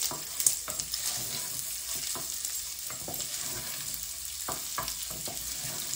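Chopped onions and green peppers frying with sausage in its fat, a soft continuous sizzle with repeated spatula scrapes and taps as they are stirred in, fairly quiet and close, no talk.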